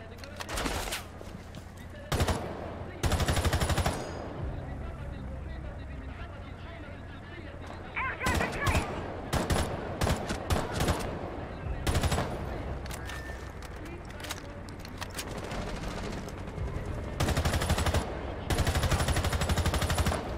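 Rapid bursts of automatic gunfire with recoil in a first-person shooter video game, repeated volleys loud and close, with a player talking between and over the shots.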